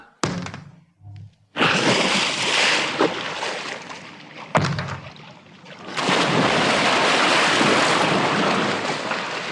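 Loud rushing water splashes and surges, with a brief quieter gap before a second big splash of churning water that continues steadily.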